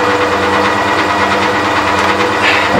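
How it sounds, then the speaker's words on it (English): A vacuum pug mill runs steadily while de-airing and mixing day-old pottery clay, a continuous close mechanical hum with a high motor whine, alone with no talk. "The vacuum de-airs it, makes it much easier to throw."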